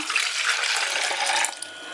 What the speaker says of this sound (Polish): wlewam sobie do mojego shakera